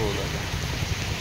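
Rain falls steadily outdoors, a dense close patter heard as a brief, even wash of sound with no clear talk.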